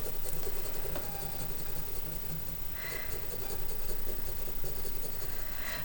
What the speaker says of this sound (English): I'm going to turn my pencil again, up here, make a few more lines.